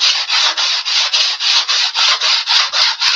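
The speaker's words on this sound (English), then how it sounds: "start sanding on this and bringing it down to the other level of the other piece of sheet here" Sanding down a seam on a model airplane's wooden sheeting, a steady run of about a dozen rhythmic rasping back-and-forth strokes, close and loud.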